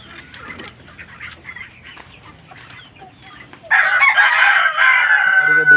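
A brown decal breeding rooster crows loudly and close by in one long call, following quieter farmyard clucking and chatter from other fowl.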